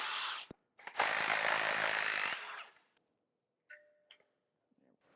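Ratchet wrench clicking rapidly while loosening a power steering hose during the teardown of a 216,000-mile R32 engine, a loud close burst of ratcheting for about two seconds, then a few faint clicks and taps.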